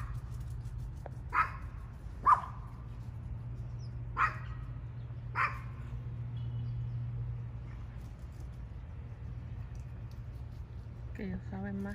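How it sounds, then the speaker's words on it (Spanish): A few sharp dog barks sound at a distance, scattered over a steady low hum, with a faint clatter near the end. "hay un perrito que soltaron ahí"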